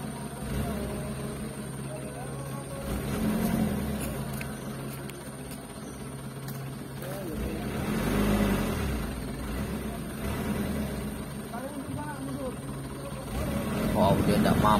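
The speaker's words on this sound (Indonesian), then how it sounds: "Dump truk oleng." A dump truck grinding over extreme off-road ground, its engine rising and falling in long strained surges, with people talking over it throughout.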